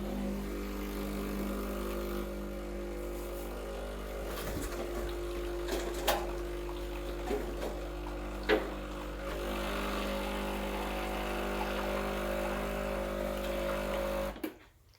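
A Breville Barista Express BES870 espresso machine brewing a double shot, its steady pump hum droning close and continuously with a few faint clicks and knocks, then cutting off abruptly at the end.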